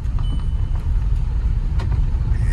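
A 2016 Audi A1, a salvage car just brought back to running, drives along with a steady, loud engine and road rumble heard from inside, constant and unbroken throughout.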